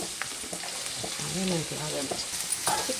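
Green chillies and onions frying in a pan for a chicken curry, with a steady close sizzle and scraping stirring sounds throughout.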